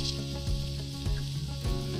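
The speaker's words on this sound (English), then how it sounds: "Pepper is sizzling." Peppers sizzle in olive oil in a warm pan, a steady close crackle and hiss that swells in small waves about every half second.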